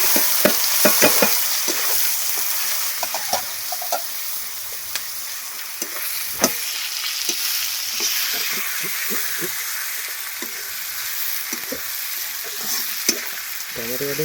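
Onions frying in hot oil with bay leaf, cloves, cardamom and cumin, a steady broadband sizzle with repeated scraping stir knocks, close and continuous throughout, in a village cooking setting.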